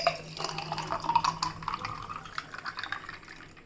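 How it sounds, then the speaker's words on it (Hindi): Water pours and drips into a raw mango drink as ice cubes go in, with irregular splashy trickles and small clinks rising and fading over a few seconds, close and fairly soft. "उसके बाद डालेंगे हम लोग आइस क्यूब और इसमें पानी मिला लेंगे।"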